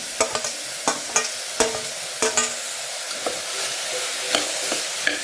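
Potatoes are stirred in a sizzling pan, a steady frying hiss punctuated by a series of sharp spoon scrapes and clacks at irregular intervals, close up and without talk.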